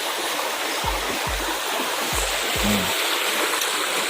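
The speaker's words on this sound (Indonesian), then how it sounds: "Itu sungai kecil" A small river stream flows with a steady, broad rushing hiss, close and constant, while a few low thumps break in near the middle.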